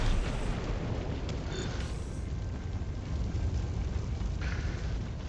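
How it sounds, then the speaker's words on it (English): A grenade explosion in the video game Helldivers II, a deep rumbling boom that rolls on and decays for several seconds, loud and heavy in the low end. "Throwing grenade."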